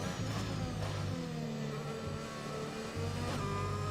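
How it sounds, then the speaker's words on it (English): Alpine Formula 1 car engine from the racing game F1 2021 at Imola, a high whirring drone with rising revs and shifts, steady and fairly loud with no voices. "Quite a whirring sound of that engine"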